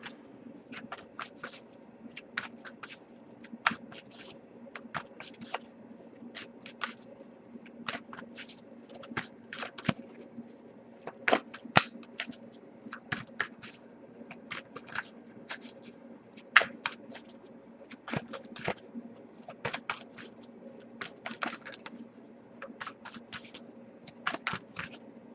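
A Wisdom of the Oracle card deck being shuffled at close range, with quick crisp riffles and flicks that repeat in irregular bursts over a faint steady background hum, and no talking.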